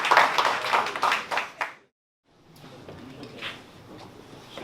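A small audience at a startup pitch event claps briefly, a sparse, close patter that stops abruptly, then gives way after a short silence to quieter room noise and soft scattered taps.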